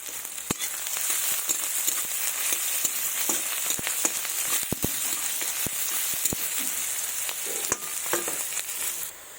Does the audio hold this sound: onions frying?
yes